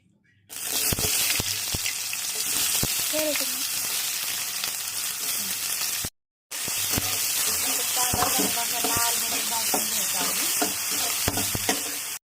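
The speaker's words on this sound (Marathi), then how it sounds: "आता मी तेल टाकून घेते इथं। कांदा" Chopped onion fries in hot oil in a pan, a loud, close, steady hiss broken by one short gap, with occasional spoon knocks against the pan.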